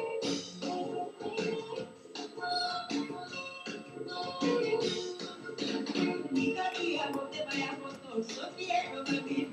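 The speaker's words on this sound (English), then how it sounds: "And in this part of Africa, they have fantastic pop music" Congolese pop from Zaire, a dense band recording with busy, rhythmic guitars, drums and vocals driving steadily throughout at moderate level.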